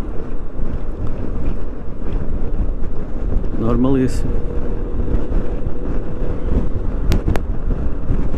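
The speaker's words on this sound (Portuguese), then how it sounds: "Está muito vento, pá, eu cada vez que venho fazer um test drive apanho sempre vento." Strong wind buffets the microphone on a Yamaha XMAX 300 scooter test ride, a steady loud roar running the whole time with a rider speaking over it.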